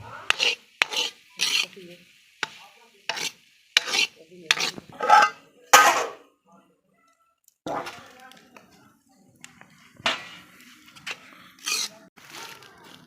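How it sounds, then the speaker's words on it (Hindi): Semolina being dry-roasted and stirred in a pan over low to medium heat for carrot halwa, with repeated scraping and stirring strokes, light clinks of utensil on pan, and brief pauses between. "लो या मीडियम आंच के ऊपर जो है इस सूजी को हम भूनेंगे"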